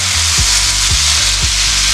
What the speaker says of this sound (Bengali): মাছের সঙ্গে মশলাগুলো দারুণভাবে কষানো হয়ে গেছে